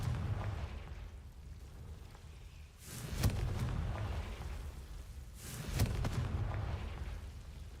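Two Confringo blasting spells exploding in Hogwarts Legacy, each a sharp crack followed by a rumbling burst, spaced a few seconds apart over a dull ambient background.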